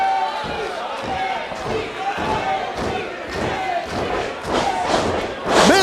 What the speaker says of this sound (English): Misses with that drop kick